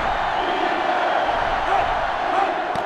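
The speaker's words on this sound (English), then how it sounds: "They're really struggling now as this crowd is going absolutely insane." Stadium crowd in the NCAA Football 2005 video game, Auburn Tigers against LSU Tigers, roaring loudly and continuously as a dense, unbroken wall of cheering with no let-up.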